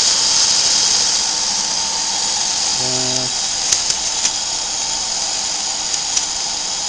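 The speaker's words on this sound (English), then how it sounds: "every single pin has to be screwed in place" A power driver screws metal pins into a pin barrel harp barrel, giving a steady, loud high whine that runs without a break, with a few brief clicks and a short lower tone partway through.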